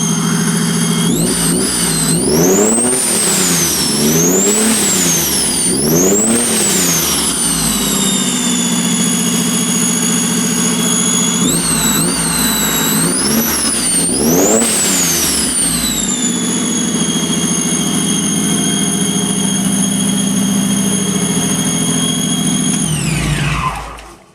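Rebuilt Joyner buggy engine running loud and close, revving up and down repeatedly with rising and falling whine through the first half, then settling into a steady drone before cutting off abruptly at the end.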